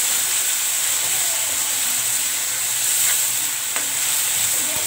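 Tomato puree being stirred into kofta curry in a hot pan, with a steady loud sizzle and hiss throughout and a few faint scrapes of the spoon against the pan.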